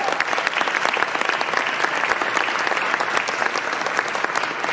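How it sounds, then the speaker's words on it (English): Dense, sustained applause from a large concert audience honoring scholarship students, a steady roar of many hands clapping at close range with no talking over it. "Would you give them a round of applause?"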